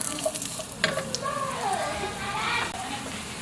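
Ginger pieces hitting a hot cooking pot give a soft, steady sizzle and crackle, moderately close and continuous, with a brief clatter as the pieces go in.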